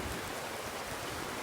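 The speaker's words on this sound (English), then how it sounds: "Now it's raining really hard." Heavy rain pouring down during a severe storm in Miami just after a cold front, a dense, steady hiss with no breaks.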